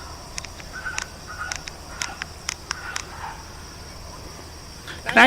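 Faint, distant sharp yaps from small dogs repeat in quick irregular bursts over a quiet night background, with a louder noise at the very end.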